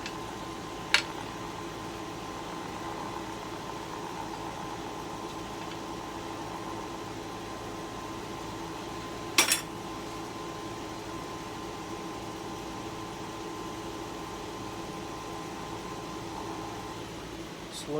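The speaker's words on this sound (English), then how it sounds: "Slow my lathe down." A woodturning lathe runs steadily, a constant motor hum and whine throughout, broken only by two brief sharp clicks, one near the start and one midway.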